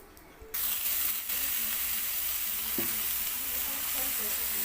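Mango pieces dropped into hot oil spiced with dried red chillies and bay leaves for a sweet mango pickle, a sudden jump into a loud continuous sizzle that holds steady, close by, with a light stirring knock.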